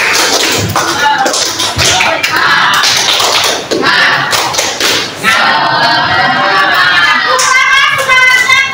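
A group of teachers at a school coaching session performs a spirited clapping cheer, loud, fast hand claps and slaps in patterned bursts, with voices calling out alongside.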